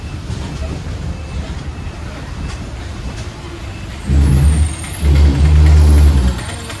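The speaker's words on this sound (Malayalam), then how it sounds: "വണ്ടിപ്പെരിയാർ ബസ് സ്റ്റാൻഡിലോട്ട് വണ്ടി കയറിക്കൊണ്ടിരിക്കുക." A KSRTC bus pulls into the Vandiperiyar bus stand with a rumbling engine under road noise, then two loud, low bursts of heavy engine and brake noise near the end.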